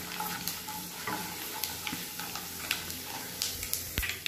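Chana dal and urad dal roasting in a pan over a medium flame, with a soft steady sizzle broken by small ticks and scrapes of stirring.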